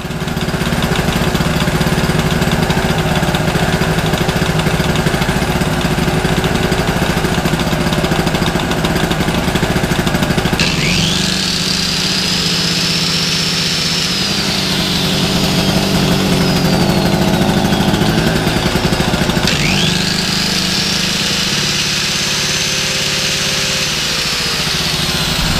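A petrol two-stroke generator engine, once seized and now repaired, runs steadily and loud throughout, its note hunting and rising as the throttle is turned up, with two clear revving surges before settling back.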